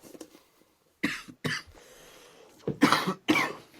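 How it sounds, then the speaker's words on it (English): A person coughs in several harsh bursts, with two or three close, loud coughs separated by short pauses, heard alone without any talking. "Sorry, coughing."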